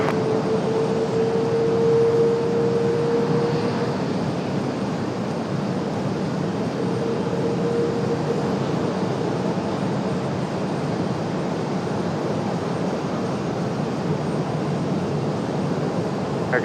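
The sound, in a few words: airplane taking off from runway 23 right at RDU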